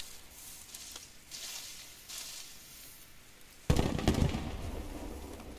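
A grenade explodes in the video game Post Scriptum, a sudden loud blast midway that leaves a rumbling, crackling tail, after quieter distant pops and battlefield noise.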